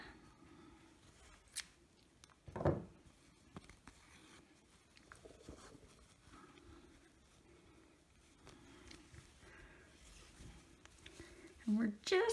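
Scissors snip crochet yarn in a single close, crisp cut while a person talks over soft handling noises, with a few more faint clicks and rustles later.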